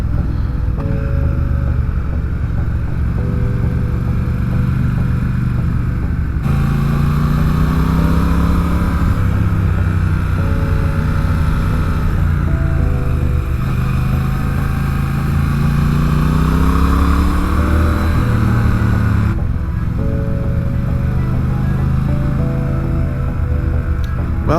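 A Triumph Speed Twin motorcycle riding the winding Tail of the Dragon road, its engine droning steadily throughout with rising and falling pitch as it accelerates and eases off through curves, loud and close with wind noise.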